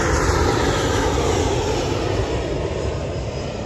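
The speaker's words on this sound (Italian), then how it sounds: "intanto passa un aereo" An airplane roars past overhead outdoors, a loud broad engine rumble that stays strong and slowly fades toward the end.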